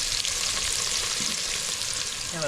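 Chopped onion frying in a pan over an outdoor fire, a steady close sizzle with broadband crackle running throughout, loud and unbroken with no talk.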